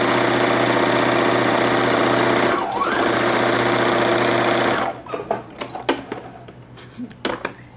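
A Husqvarna Viking sewing machine runs a steady straight stitch, its fast, even mechanical whir loud and continuous for about five seconds before stopping. Then come a few scattered clicks and handling knocks.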